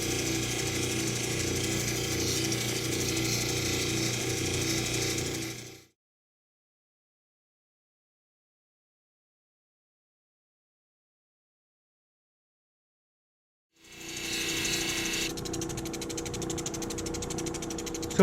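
Lapidary polishing wheels spin against a birthday cabochon, a steady whirring grind that cuts out to silence for several seconds, then starts again at the same moderate level.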